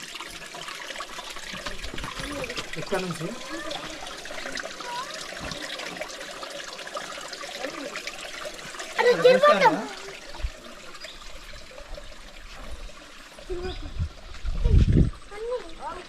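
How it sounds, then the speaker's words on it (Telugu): A waterfall in a dense forest gives a steady, broadband rush of falling water that runs beneath someone talking nearby, with a brief louder swell midway and a low thump near the end. "ఇక్కడ మీకు జారవారే జలపాత సౌండ్ వినొచ్చు"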